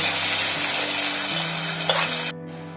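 Onions sizzle steadily in hot oil with a bay leaf and a piece of cinnamon, a dense close frying hiss with a low background hum, ending abruptly in a quieter tail.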